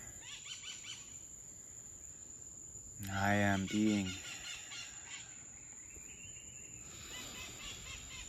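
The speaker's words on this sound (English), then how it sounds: "The birds are singing, the sun is shining." Birds call outdoors at a home, with faint chirps and a loud, brief run of clucking, fowl-like calls in the middle, over a constant thin high whine; a voice briefly speaks.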